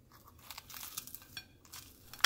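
Crispy fried catfish being bitten or broken apart at the plate, giving a series of close, dry crunches and crackles that grow sharper toward the end, with no talking.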